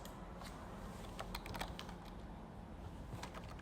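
Rapid clicks of a computer keyboard being typed on during a 3D modeling task, a quiet, irregular run of close keystrokes with no talking.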